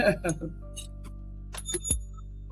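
A small hand bell rings a few quick times, then rings again briefly near the end, bright and close.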